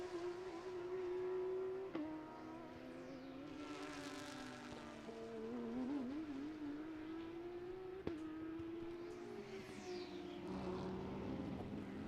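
Race cars at the Sebring SpeedTour race, engines droning and revving with rising and falling pitch as cars pass, heard at a distance over steady trackside noise, with two sharp gear-change cracks.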